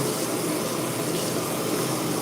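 Running water gushes steadily from a tap while someone rinses and cleans with soap, a loud, close, continuous wash of splashing with no voices over it.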